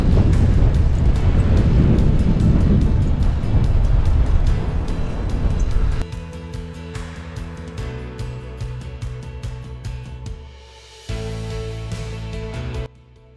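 Strong, cold, constant wind buffeting a microphone while bikepacking through the Netherlands, a dense low roar that dominates the first six seconds, then steadier gusty rumble with some tonal hum, dropping briefly before rising again.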